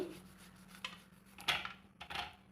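A knife cuts through a firm citron for pickle, giving a few soft scraping, rasping strokes around the middle and end, close and quiet with no voices.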